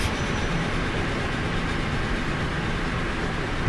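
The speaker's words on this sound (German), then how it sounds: "Da kommt schon wieder eine Dampflok" A steam locomotive passes in Transport Fever 2 as a steady, broad rumble and hiss of rolling train noise, continuous and fairly loud throughout, with no voices over it.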